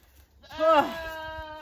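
A single loud, quavering bleat from a little goat rings out up close and trails off, with faint voice sounds around it.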